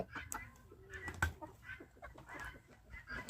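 Brahma chickens cluck softly and intermittently nearby in a coop, short low clucks scattered over a quiet background.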